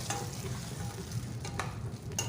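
A spatula scrapes and stirs ground tomato paste through a sizzling pan, with a few sharper scrapes standing out over constant frying noise, close up.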